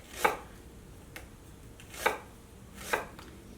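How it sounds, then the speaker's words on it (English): A knife slices onions for caramelizing, giving three sharp, close chops against a cutting board, irregularly spaced with a couple of faint taps between, no talking. "from there I cut them in half, and I'm putting them all together in this bowl"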